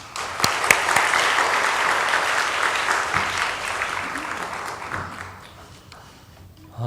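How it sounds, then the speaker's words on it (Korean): A church congregation at a revival meeting applauds, a loud burst of clapping that fades out toward the end, with a voice briefly audible at the close. "많은 은혜 받으시면 박수 한번"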